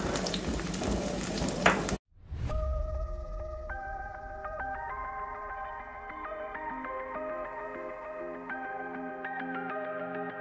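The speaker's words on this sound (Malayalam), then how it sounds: "റൗൺ കളർ ആവണ വരെ ഒന്ന് വഴറ്റിക്കൊണ്ടിരിക്കുക." Hyderabadi kaypakka sizzles loudly in a pan with oil for about two seconds, then cuts off abruptly and gives way to steady music for the rest.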